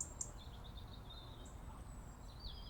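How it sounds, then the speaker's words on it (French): Small birds chirp and whistle in a garden, thin high calls scattered over a steady faint background hiss, with a few brief sweeping notes repeating at a distance. "j'entends les oiseaux."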